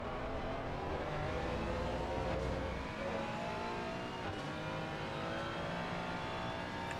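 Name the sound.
race car engines in Assetto Corsa Competizione video game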